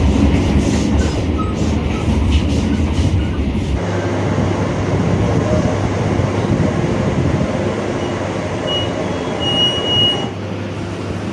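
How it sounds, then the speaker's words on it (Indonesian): The KA Progo passenger train runs between Kroya and Gombong stations, a loud steady rumble of wheels and carriage noise heard from inside, with faint squeals high up. "KA Progo kembali diberangkatkan dari Stasiun Kroya, Kabupaten Cilacap jam 4:49 menit"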